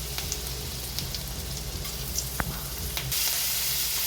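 Chopped garlic sizzles in butter and oil in a pan, a continuous close crackle with a few sharp pops, getting a little louder toward the end.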